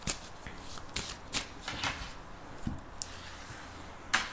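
Tarot cards being shuffled for a card draw, a soft papery riffle of irregular quick bursts and slaps at close range, with no talking.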